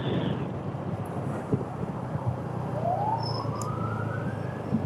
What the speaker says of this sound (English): We hear a siren.